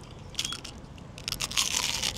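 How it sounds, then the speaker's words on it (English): Close crunches from biting into a fried onion ring, in a few crisp bursts followed by a louder crackling chew, with no talking. "I've had a bite of this onion ring and it's amazing, but listen to this crunch."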